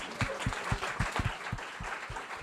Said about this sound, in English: Let's clap for this.